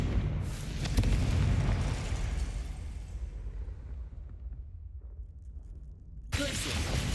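Fiery Confringo spell blasts in Hogwarts Legacy, a loud booming burst that rolls and decays over several seconds, followed by a sharp new impact near the end.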